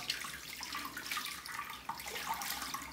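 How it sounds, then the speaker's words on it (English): Cold water runs from a bathroom tap for a rinse after a shave with a vintage Schick safety razor, a steady close hiss and splash that holds evenly for the whole stretch with no talking. "Okay, cold water rinse."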